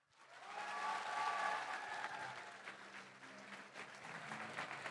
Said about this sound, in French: je vais vous demander, s'il vous plaît, de faire un tonnerre d'applaudissements